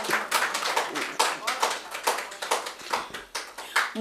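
An audience at a Hindi poetry recitation claps along in a steady rhythmic beat, roughly three claps per second, moderately close, with singing or voices faintly underneath.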